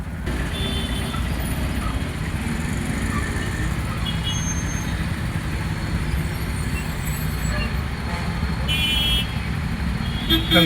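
Road traffic at night heard from inside a moving car: a steady, loud broadband rumble of engines and tyres continues throughout, with faint tonal beeps or horn-like notes near the end.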